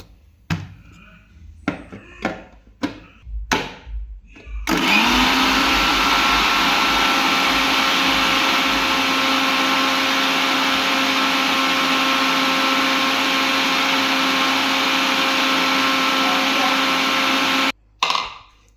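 An electric mixer blends mayonnaise as sunflower oil is added, a loud steady whir running unbroken for about thirteen seconds after a few short pulses, then cutting off near the end.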